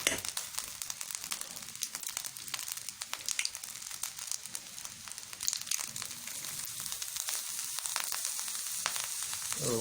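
Butter sizzles and fries steadily in a pan pushed beside egg fried rice, a dense, continuous crackle and hiss with faint scraping, close and alone for the whole stretch.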